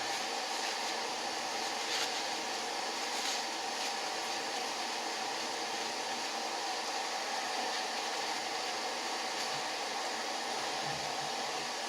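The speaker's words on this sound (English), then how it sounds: "Wipe it down and blow it all out and get ready to put it back together." Compressed air blowing out the fuel system parts of a Pietenpol aircraft during repair, a steady unbroken hiss holding at an even level throughout with no talking.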